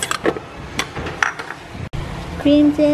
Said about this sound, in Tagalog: Put the mixing bowl and the ingredients